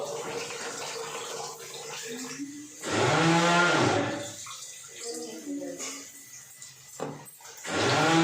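Rice being washed thoroughly in water for khichuri: sloshing, splashing bursts in several separate rounds, with a voice talking between and over them.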